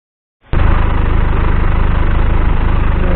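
A KTM TRK 502 engine starts and settles into a steady, loud idle while warming up before an oil and filter change, a constant even rumble running close to the microphone.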